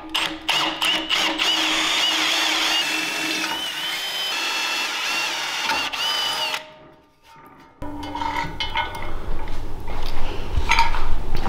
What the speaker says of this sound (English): So I'm going to drill this out to 1/4 inch.